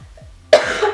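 A single harsh cough from someone who is sick, close and fairly loud, followed by a rougher trailing burst; faint low hum beneath and no speech.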